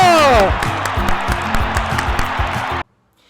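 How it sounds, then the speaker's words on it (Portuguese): At a school arts fair, a group of children and adults claps and cheers with whoops for a young boy, lively and close, under a voice at the start, ending abruptly in silence. "Palmas para o Leonardo!"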